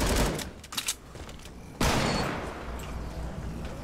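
Gunfire in the Fortnite video game: a quick cluster of shots at the start, then a loud burst that rings out and slowly fades.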